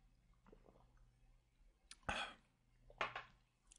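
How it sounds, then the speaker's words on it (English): Close, quiet gulps of drinking water followed by a sharp intake of breath near a microphone, with two distinct bursts standing out against a faint hum. "you heard all of the sound there of me gulping and then taking a breath during that"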